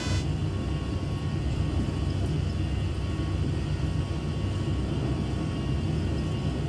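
Boeing 737 flight simulator engines on the takeoff roll out of Wellington, New Zealand, a steady loud low-frequency roar and rumble that holds constant without a break and with no talking over it.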